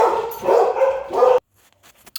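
Dogs bark and yip excitedly in a loud, close burst lasting over a second, then break off abruptly into near silence with a few faint clicks.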